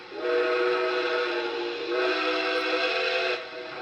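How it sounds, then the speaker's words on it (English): A loud Nickel Plate Road 765 steam locomotive whistle blows a sustained, chime-like chord for nearly four seconds, with a brief dip in the middle before it swells again. "Let's listen to some of the whistles on this engine."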